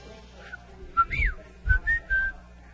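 A person whistles a short run of bright, rising and falling notes at a regular public meeting in Lincoln City, Oregon, close and clear, with a few low thumps between.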